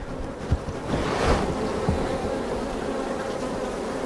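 Honeybees buzz in a steady, dense drone around an open hive during a frame inspection, close and continuous, with a few soft knocks and bumps of frames underneath.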